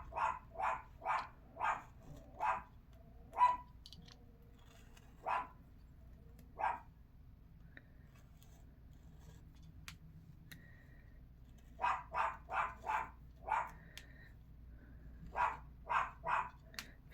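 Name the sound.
dogs barking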